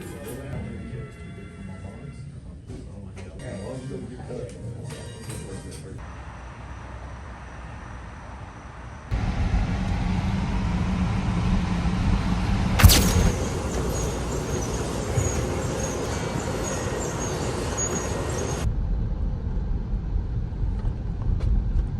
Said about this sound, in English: Just driving to school right now, early in the morning.